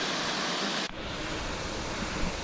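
A small waterfall at Ricketts Glen pours in a steady, loud rushing roar that shifts abruptly in tone partway through, as if the listening position changes, with no voices.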